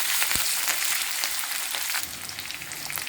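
Green chillies and curry leaves crackle in hot oil in a pan, a steady close broadband sizzle that runs unbroken without any talk.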